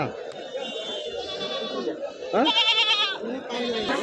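Goats bleat repeatedly at the Kadiri livestock market, loud nearby calls, one especially strong bleat near the middle, amid a steady hum of people talking around the stalls.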